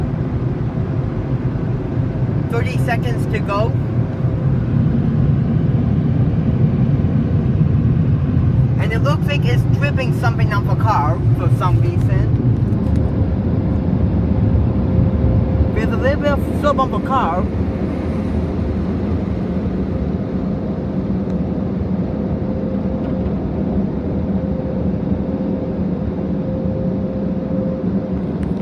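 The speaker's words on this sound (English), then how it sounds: "Well, looks like the dryers are doing a decent job." Istobal MNEX 22 car wash dryers keep up a loud, constant roaring blast of air on a car, while someone talks in short bursts over it.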